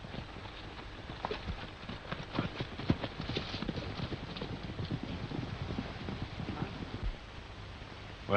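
Hooves of a horse clip-clop steadily at a walking pace on a 1930s Western ranch set, moderately close, with faint background noise and no talk.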